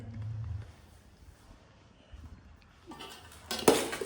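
Biryani being stirred in a pot at home, heard mostly as a quiet scrape before a sharp metallic clatter of a utensil against the pot near the end.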